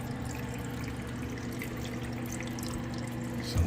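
Water flows through a household plumbing pipe as a steady, low rushing hum, continuous and fairly faint, with a brief bump at the end.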